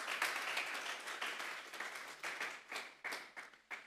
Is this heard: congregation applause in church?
yes